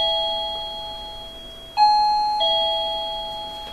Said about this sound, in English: When you hear the first bell